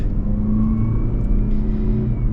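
A 2026 Mazda CX-50 Meridian rolls along on all-terrain tires with steady loud low road rumble and tire roar from inside the cabin, plus a faint engine whine and no talking.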